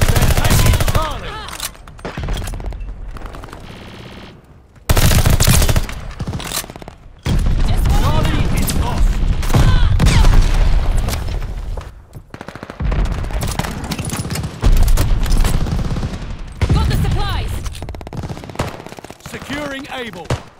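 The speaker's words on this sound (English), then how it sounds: "Throwing grenade!" Grenade blast amid rapid gunfire in the video game Call of Duty Vanguard, with loud bursts of machine-gun fire and booming explosions, mixed with shouted in-game voices.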